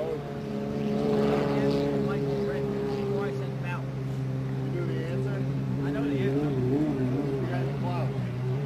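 A 2.5 stock hydroplane race boat with a 4-cylinder Ford engine drones steadily on the race course, with a constant engine hum at mid distance, while people talk over it throughout.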